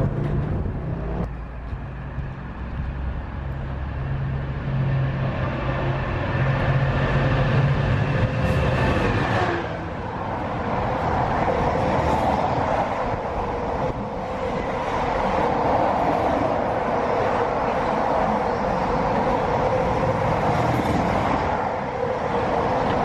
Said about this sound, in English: And we're expecting a West Coast Railway one now.